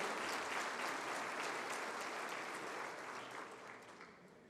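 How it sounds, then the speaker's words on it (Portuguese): An audience claps for the panel at the EXPOSIBRAM 2023 opening ceremony, dense sustained applause from a large crowd that gradually fades toward the end. "Uma salva de palmas para a mesa, pessoal."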